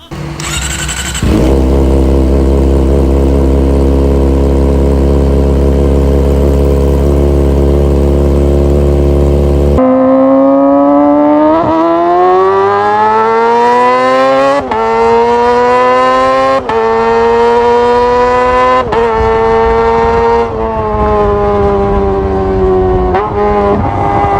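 A motorcycle engine making 50 horsepower at 15,500 RPM idles with a loud steady drone, then screams through repeated high-pitched revs that climb and drop sharply, very loud and close.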